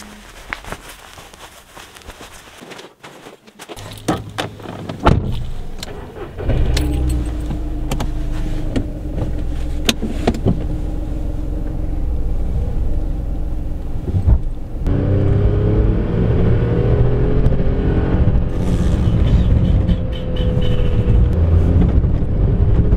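A 2004 Skoda Fabia car starts up and drives off on a road test, with door and cabin clatter first, then a steady engine and road rumble that builds as it accelerates, heard from inside.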